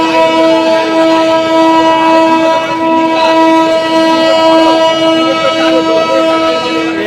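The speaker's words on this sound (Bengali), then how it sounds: "এই যে ট্রেনটা দেখতে পাচ্ছ এখন" A Khardah local train's horn sounds loud and sustained throughout, a steady harmonic blare over rumbling carriages, with a few faint clacks of wheels on rails.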